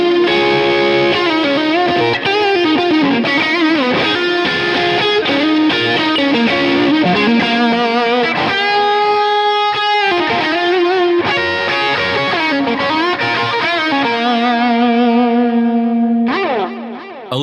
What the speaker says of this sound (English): high watt type amplifier, a bit of overdrive, some delay, and some reverb